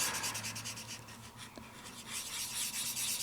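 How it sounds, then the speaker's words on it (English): A Diamond Press marker scrubs back and forth across card in quick rhythmic strokes, a faint, soft, close rubbing with no talk. "So I'll continue scrubbing through there like that just to kind of make it look a little nicer."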